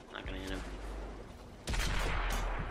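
A tank cannon fires at a T-34/88 in World of Tanks on Xbox 360, one sharp, loud blast that rolls into a rumbling tail after a stretch of engine and battle noise, with faint talk near the start.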